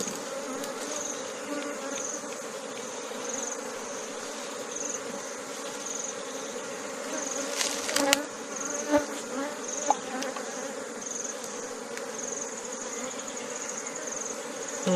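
Bees hum in a continuous droning buzz at a honey farm in Anambra, steady and fairly close throughout, with a few faint knocks and handling sounds partway through and no talking.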